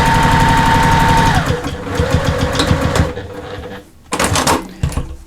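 A sewing machine runs fast and steady while back stitching fabric for a travel case, its needle thumping in a rapid rhythm that slows and drops in pitch, then pauses briefly before a short final burst, close and loud.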